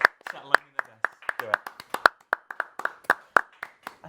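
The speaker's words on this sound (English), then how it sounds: "Let's give Shawnee a round of applause." A small handful of hands claps in a quick, uneven rhythm, each sharp slap distinct and close, while a voice talks over it at the end of a RuneScape stream.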